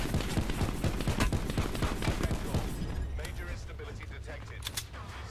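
Gunfire in a Call of Duty Blackout match: dense, continuous bursts of shots and explosions that fill the first half, then thin out into scattered pops, with voices talking over the game.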